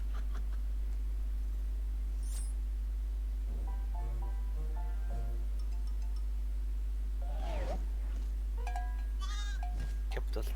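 Sheep bleat a few times in the Spyro the Dragon video game on PC, thin and game-like over a steady low hum, with scattered clinks and a voice speaking in between.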